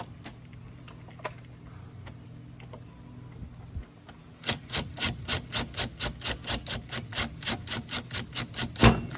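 Flat screws being driven to fit a lock set into a sliding glass door on a shed, heard as a long run of steady, evenly spaced sharp clicks that start after a quiet stretch and carry on close by.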